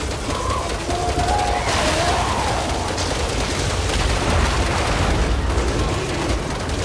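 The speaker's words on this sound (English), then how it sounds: "I'm peppering him full of bullets" Sustained gunfire from the Resident Evil 6 Ada campaign finale, a dense, continuous barrage of shots and booms filling the whole stretch, loud and close with no talk.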